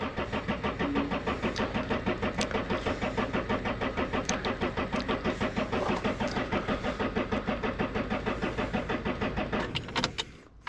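A 1990s Renault Espace MK2 diesel engine starts and settles into a steady, rhythmic idle clatter, close and even for several seconds before cutting out at the end.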